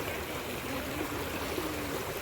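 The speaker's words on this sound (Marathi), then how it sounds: "म्हणजे पाणी जाम फास्ट चाललंय, तिकडून येते." Fast-flowing water in a tidal creek, a steady broadband rush and burble that stays even and continuous throughout, fairly close, with no voices over it.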